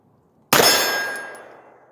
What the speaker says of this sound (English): So we're shooting this Tula 135 grain subsonic out of the 10-inch barrel.